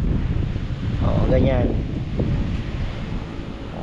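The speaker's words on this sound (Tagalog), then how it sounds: "Lakas ng hangin" Strong wind blows across an open fishpond area, a steady rumbling gusty roar buffeting the microphone while someone speaks briefly over it.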